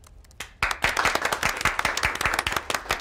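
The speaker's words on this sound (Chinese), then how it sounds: "我觉得我们所有人可以为自己鼓鼓掌" An office team bursts into clapping for themselves after a company meeting, rapid overlapping hand claps starting sharply and continuing close and lively.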